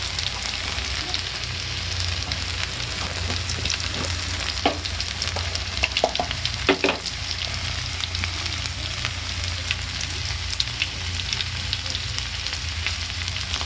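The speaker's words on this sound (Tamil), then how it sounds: "எண்ணெய் ஊற்றியாச்சு. எண்ணெயும் சூடேறும். இப்போ தேவையான அளவுக்கு நம்ம கடுகு போட்டுக்கலாம்." Mustard seeds frying in hot oil give a dense, continuous sizzle with scattered crackles and pops, heard close and steady throughout, with no voices.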